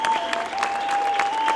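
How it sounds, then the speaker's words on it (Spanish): Steady applause from a community gathering audience in Utah, many hands clapping close by with a continuous bright, crackling texture and a faint sustained tone running underneath. "Palmas. Applause."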